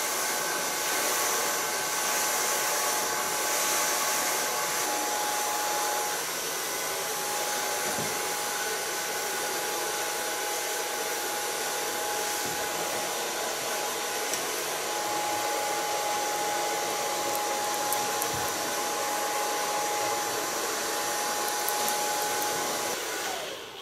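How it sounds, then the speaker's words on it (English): A hair dryer blows steadily and loudly while a medium round brush styles a short asymmetric pixie cut, a continuous whooshing roar with slight wavering that runs alone, without talk, for the whole stretch. "Start blow drying with a medium brush."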